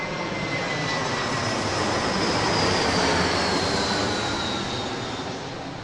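An airliner landing on runway 19 right at Brisbane Airport makes a steady, loud jet roar that swells toward the middle and eases slightly at the end, with no talk over it.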